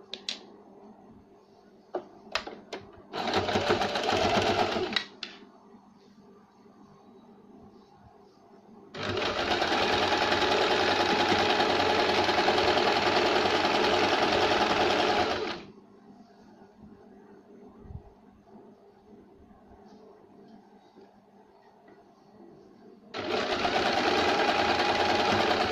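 Bursts of an electric sewing machine stitching a blouse lining, loud and steady: a short run, a long run of about six seconds, then another starting, with quiet gaps and small clicks between.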